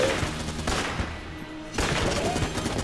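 Rapid bursts of bullet fire from the twin-stick shooter Enter the Gungeon, dense and continuous gunfire crackling loudly throughout, with a brief lull in the middle before the shooting resumes.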